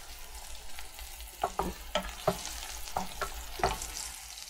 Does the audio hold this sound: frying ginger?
yes